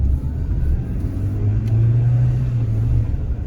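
Citroen C2 engine pulling under acceleration in paddle-shift manual mode, a steady low rumble with a rising drone that holds for a few seconds, close and fairly loud, with no talk.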